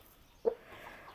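A single short cluck from a farmyard chicken, brief and moderately close, with quiet background before and after.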